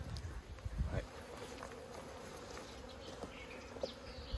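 Honey bees buzz steadily at a hive, a faint continuous drone with scattered nearby fly-bys, under quiet outdoor ambience and occasional soft handling noise.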